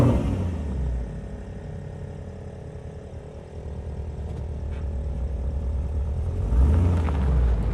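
A Porsche Cayenne S with its 4.8-litre V8 and dual exhaust outlets gives a steady, deep rumble that holds through the clip and swells louder near the end, with no talking.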